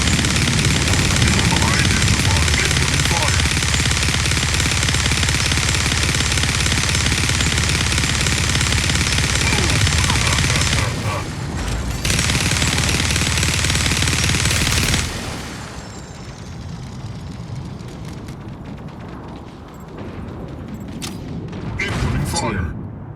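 A dual minigun in a video game fires in a long, dense, continuous roar that drops off and turns into scattered bursts and lighter game sounds near the end.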